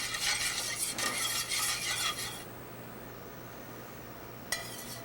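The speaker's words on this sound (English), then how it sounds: "I'm going to swirl in a piece of butter, and that's going to be the sauce on the plate" Butter swirls into a mushroom and oyster sauce in a pan, a soft stirring scrape and gentle sizzle for about two seconds, then quiet, with one brief clink near the end.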